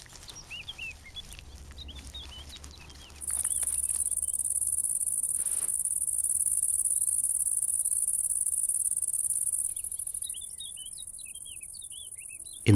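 Bush cricket in a cornfield with a loud, sustained high buzzing trill that starts abruptly and runs steadily for several seconds, alongside scattered bird chirps before and after.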